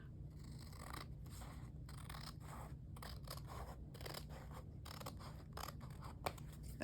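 Scissors snip repeatedly down the side of a fabric flip insert for a butterfly journal, a close series of crisp cuts over a steady low hum, with no talking.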